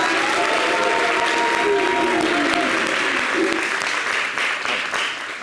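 Studio audience on a French TV show applauds a woman, steady dense clapping throughout at close range, with a host's voice and bits of melody running faintly underneath.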